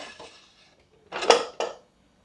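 A pressure cooker lid opened after its steam has been released: a faint clatter, a pause, then a louder metallic clank and scrape followed by a shorter knock, with no talk.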